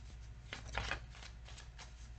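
Tarot cards shuffled and drawn during a reading, a soft continuous riffling and sliding of cards, close and steady with no talk.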